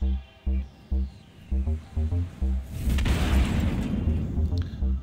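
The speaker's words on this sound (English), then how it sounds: "And we are starting with one size one missile." A size one missile strikes a ship hull in a space combat game, a broad rumbling blast swelling after about three seconds and rolling on over rhythmic, pulsing game music that plays throughout.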